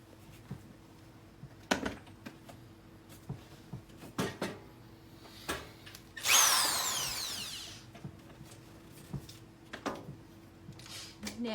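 A power drill bores holes for blind brackets beside a windowsill, one loud whirring burst of about two seconds that winds down, amid quieter taps and handling knocks.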